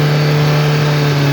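A Russian piling machine with a bent, worn frame runs its engine close and loud, a steady droning hum held at constant revs throughout the short stretch.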